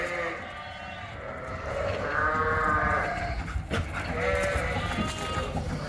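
Sheep and lambs bleat repeatedly at close range while being driven across a farm into the front pen, the calls overlapping in a steady, busy stretch.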